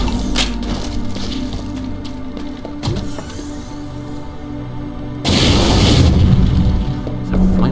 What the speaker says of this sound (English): It's a flamethrower.